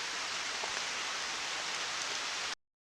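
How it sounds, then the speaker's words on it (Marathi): Steady, dense rain pours down during a downpour while out digging taro on a hillside, a close, even hiss with no voices that cuts off abruptly into silence near the end. "और पाऊस पण आला"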